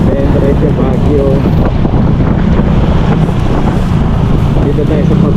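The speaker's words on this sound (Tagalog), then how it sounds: "Malakas ang hangin." Heavy wind buffets the microphone in a constant low roar throughout on a road trip in Pampanga, Philippines, with faint voices partly buried beneath it.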